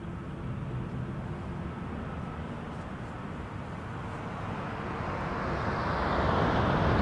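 An Air Canada airliner taking off from runway 23 at Toronto Pearson, a broad distant engine roar that slowly builds louder toward the end.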